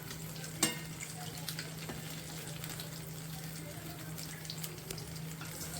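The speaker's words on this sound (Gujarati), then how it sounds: "મિત્રો મસ્ત ગોલ્ડન બ્રાઉન આપણે પકોડા તરવાના છે" Cheese corn pakoras deep fry in hot oil, giving a steady soft sizzle and crackle with occasional sharp pops and spatters, fairly quiet and close, with faint background hum.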